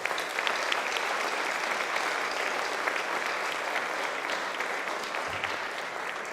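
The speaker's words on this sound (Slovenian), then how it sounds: "aplavz prosim" Steady, dense applause from an audience at a tourist society's 65th anniversary celebration in Nova Gorica, continuous and fairly loud throughout without speech.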